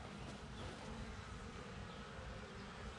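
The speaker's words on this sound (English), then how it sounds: "These are my little tiny bees." Steady, dense buzzing of many tiny bees in a newly inspected hive colony, close and continuous with no talking.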